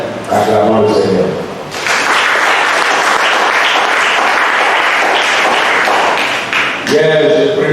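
Church congregation bursting into sustained applause during a French-language service, loud and dense for several seconds, with a voice speaking just before and as it fades.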